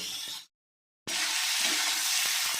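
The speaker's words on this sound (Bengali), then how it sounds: "আলু আর বিনসটা একটু ভেজে নিয়ে তারপরে এর মধ্যে পেঁয়াজটা দিয়ে দেবো" Potatoes and beans sizzle in hot oil in a wok for chow mein, a loud, bright hiss that cuts out briefly and then returns with a few stirring clinks.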